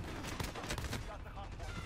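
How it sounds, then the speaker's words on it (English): Rapid pistol shots fired from the hip in a first-person shooter game, a dense burst of quick reports crowding together at moderate loudness with no talk over them. "And another pistol headshot hip fire."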